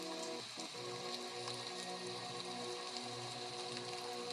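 Steady rain patters continuously on a surface, soft and even throughout, with a faint tonal hum in the background.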